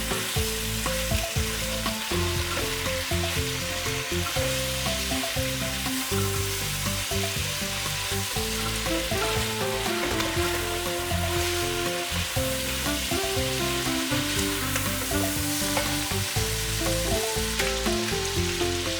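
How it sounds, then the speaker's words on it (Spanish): Chili peppers and onion sizzle and fry in a hot pan with salt and pepper, a loud continuous crackle broken by occasional stirring clatter, with no voices over it. "En este momento voy a echar los ajíes, todos los ajíes que se sofrían"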